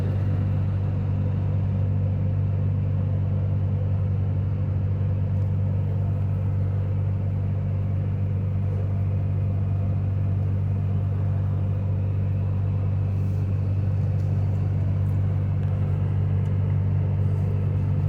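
A segmented freight train of many rail cars rolls along the rails in the video game Rail Ramp, producing a steady, loud, unbroken low rumble that holds unchanged throughout.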